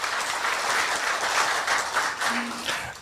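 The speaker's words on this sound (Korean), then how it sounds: "박수 한번 부탁드릴까요?" Audience applause at a university forum in a hall, a dense, steady wash of many hands clapping for a few seconds, loud and close, fading slightly at the end.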